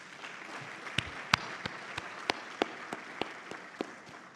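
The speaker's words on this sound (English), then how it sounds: "please join me in applauding Professor Moise Emery of UM6P" Scattered applause at an African plant-breeding conference, with sparse individual claps ringing out over a low crowd murmur, moderately distant and fairly quiet.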